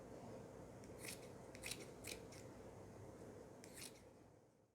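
Scissors snip through folded fabric while cutting it into four pieces for a hand-sewn cloth face mask, giving several crisp, close cutting crunches over a steady low background rumble; no speech.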